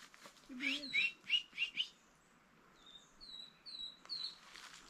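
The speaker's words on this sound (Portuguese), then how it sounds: "Não, olha, tá piando. É um pássaro." A wild bird chirps in a rural spot during a motorcycle trip in Brazil, giving a quick run of sharp tweets followed by softer, thinner calls, faint and fairly distant.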